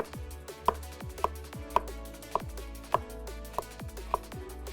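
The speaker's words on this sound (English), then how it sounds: "you can slice them up like so into like little 3 pieces" A knife slices vegetables on a cutting board in steady, evenly spaced chops, about two per second, crisp and close with no talking.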